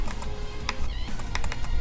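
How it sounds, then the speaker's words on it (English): Rapid clicky keystrokes typed on a SayoDevice keypad, fairly loud and close, with irregular bursts of sharp clacks over a faint background hum. "this keypad is really loud than the actual laptop keyboard"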